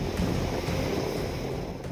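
The flooded Vapi river in Gujarat surges after heavy rain, a dense, steady roar of rushing water with wind-like noise, loud and continuous throughout.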